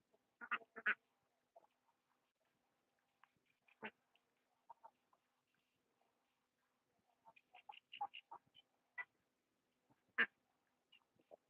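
Ducks on a farm quack in scattered bursts, some single calls and some quick clusters, close by and fairly loud against an otherwise quiet background with no talking.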